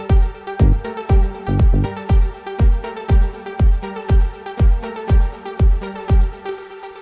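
Afro tech house melody built in FL Studio stock plugins, a steady rhythmic pattern of plucked tonal hits over punchy low kicks, loud and even, repeating about twice per second.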